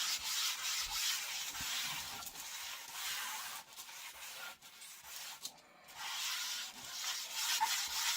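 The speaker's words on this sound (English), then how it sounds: "So I'm just going to scuff this up. And make sure there's enough grit." Sandpaper scuffs a furniture surface in continuous close rubbing strokes, a soft rhythmic rasping that briefly pauses midway before resuming, with no talking.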